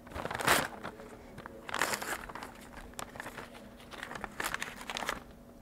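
Paper crinkles and tears as a top secret envelope is opened, several crisp crackling bursts with short pauses between them, close up.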